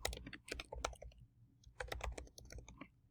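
Computer keyboard typing in two bursts of rapid, close key clicks separated by a brief pause, loud and alone with no voices.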